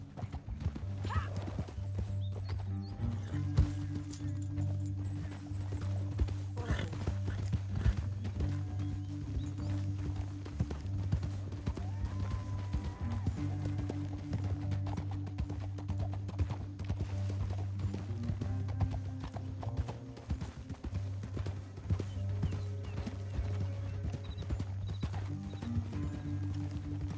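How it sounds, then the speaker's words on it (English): Horse hooves clip-clop at a steady trot throughout a Red Dead Redemption 2 video game scene, with a low drone underneath and occasional faint whinnies, heard at moderate volume without talk. "Up here, get off your horse."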